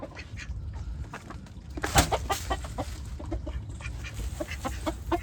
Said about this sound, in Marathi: याच्यातल्या कोंबड्या दाखवतो आपल्याला